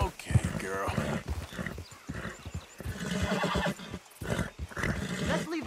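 In Red Dead Redemption 2, horses whinny and snort amid clip-clopping hooves, with people talking over the busy, uneven scene.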